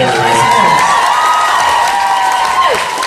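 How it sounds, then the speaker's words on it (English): An audience bursts into applause mixed with cheers and whoops, loud and continuous throughout, with voices shouting over the clapping. "ladies and gentlemen, round of applause, Mr. Jason Mann."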